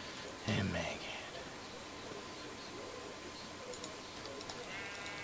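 A sheep in a Voltz-modded block-building video game gives a short bleat near the start, followed by faint game ambience and soft, hushed voices in the background.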